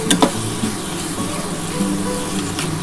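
Mashed banana stem paste is stirred in a pan to dry it out, giving a low, steady sizzling hiss with a few soft scraping strokes near the start and end.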